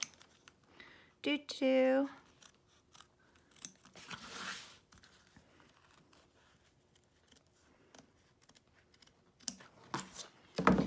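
Scissors snip and crunch through crinkly vinyl embroidery on an in-the-hoop lucky cat zip bag, a run of close, crisp cuts with brief pauses, and a voice briefly speaks partway through.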